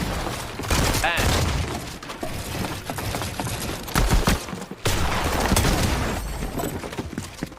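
Pistol shots ring out in a Fortnite Arena box fight on stretched resolution, with sharp cracks and building and impact noise crowding a busy, loud mix of game effects.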